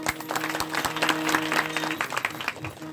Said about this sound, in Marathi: जोरदार टाळ्या वाजवायला